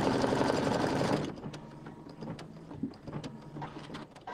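An embroidery machine stitches out placement lines for a bench buddy project, first as a dense, loud whirring run, then as quieter, irregular ticks and thumps of individual stitches.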